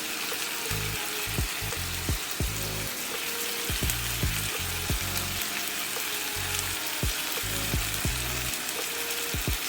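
Korean galbi short ribs topped with green onions sizzle on a grill, a steady loud crackling hiss with scattered pops and brief clinks, close and continuous, with no talking.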